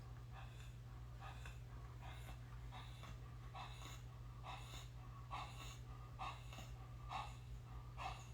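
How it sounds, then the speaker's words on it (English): Rapid, rhythmic dog panting close by, steady breaths repeating over a low constant hum. "I've got the dog under control."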